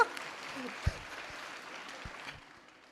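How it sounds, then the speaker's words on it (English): Applause for Professor Robin from the audience at an alumni event at TISS, a brief spell of soft, diffuse clapping that fades toward the end, with a voice speaking over it. "Please, a huge round of applause for Professor Robin."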